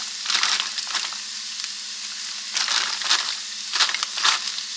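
Peppers and onions frying in a pan, a steady hiss with louder crackling bursts that swell and fade every second or so, close and fairly loud, with no talking.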